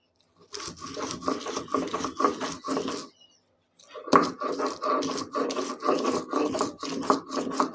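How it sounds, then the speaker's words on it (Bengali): Mashed egg ground with salt on a stone slab (pata), rhythmic close rubbing and rasping strokes in two bursts separated by a short pause, with no voices. "এবার ভর্তাটা তৈরি করব পাটায় বেটে।"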